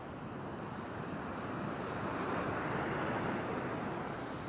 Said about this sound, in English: to the ocean breeze